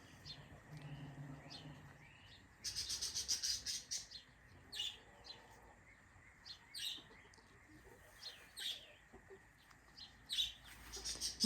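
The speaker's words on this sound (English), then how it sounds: "My chickens are coming," Chickens cluck and chirp in short scattered bursts nearby in an urban food forest garden, with soft rustling and a low murmur in the background.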